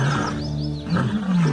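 Lion roaring in the Masai Mara, a short burst of deep, throaty groans that swells again after a brief dip, loud and near with no talking.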